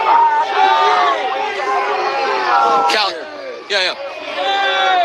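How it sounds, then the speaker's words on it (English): Protesters in a street crowd shout and chant "shame" toward immigration agents across the road, a dense babble of raised voices with sharp whoops rising above it, loud and close throughout, with a brief spoken remark in the mix. "crowd getting noisy, shouting shame just towards the agents there across the street"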